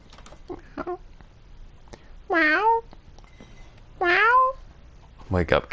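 Minecraft cat giving two loud, clear meows close by, with softer chirps and a short trailing call around them.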